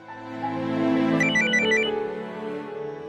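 A mobile phone ringtone as a mother calls: a steady electronic melody that swells to a bright chiming peak in the middle, then continues more softly, clear and close with no talk.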